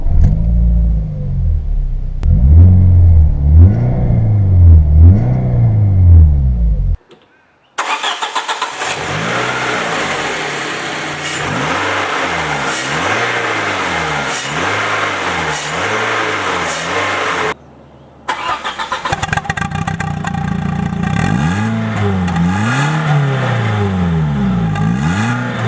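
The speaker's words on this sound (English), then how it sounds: "Let me start the car and quickly show you the engine bay followed by some exhaust sound." A 1995 Peugeot 306 S16 engine cranks and fires, then idles and revs repeatedly through the exhaust, loud rising and falling sweeps with brief gaps between recordings.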